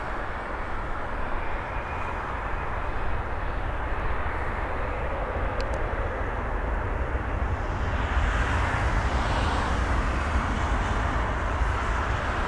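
A jet taking off from runway 05 at Toronto Pearson Airport: a steady, broad engine roar that holds loud and constant throughout, swelling slightly toward the end, with no voices.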